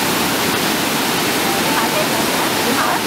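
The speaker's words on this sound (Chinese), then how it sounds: "嗱，呢條就係烏來瀑布啦。" Wulai Waterfall in New Taipei, Taiwan, pours as a steady, dense roar of falling water, heard from a distance as a continuous broadband rush with no break.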